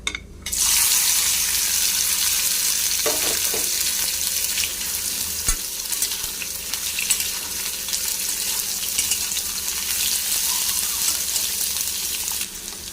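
Cut spiny gourd dropped into hot oil tempered with black cumin and chilli, bursting into a loud, dense sizzle that holds steady for several seconds with occasional clatters of stirring.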